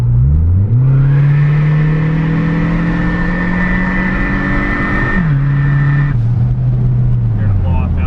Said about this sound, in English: You can really hear the turbo screaming out of the exhaust dump.